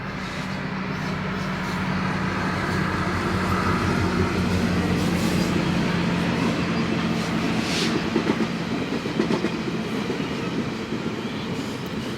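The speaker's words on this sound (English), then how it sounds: "this train is about to ruin the vibes" A train rolls past in Toronto, a loud continuous rumble with rattling wheels and clacking cars that swells and holds for several seconds before easing slightly.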